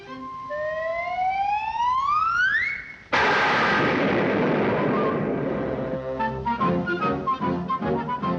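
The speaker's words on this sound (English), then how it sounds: "you're going to hear the doggonest explosion you ever heard" A cartoon explosion: rising whistling tones climb toward a brief hush, then a sudden loud blast bursts out and decays into a rumbling, crackling roar, followed by lingering ringing tones.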